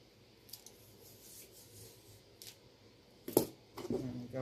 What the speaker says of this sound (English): And go ahead and cut that wire.